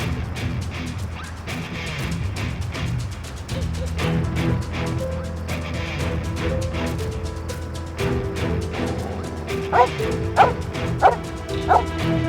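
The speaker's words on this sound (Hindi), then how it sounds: "ये सामने देखकर मुसलसल क्यों भौंकता जा रहा है?" A dog barks repeatedly in a steady series, the louder yips standing out near the end, heard beneath a continuous dramatic music score.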